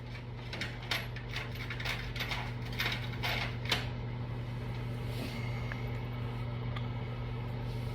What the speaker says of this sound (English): I get a socket somewhere close to the size of that and tap it down the rest of the way